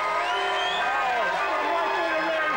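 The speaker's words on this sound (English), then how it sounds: "If you like person two, the unknown boyfriend, applaud now." A television studio audience whoops and cheers in a loud, continuous burst of overlapping shouting voices, with rising and falling yells layered over a crowd roar.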